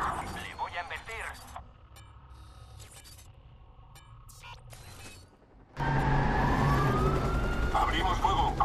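A police van's wailing siren rises over a loud engine roar in the second half of a chase in Watch Dogs, after earlier quieter mechanical and electronic game sounds.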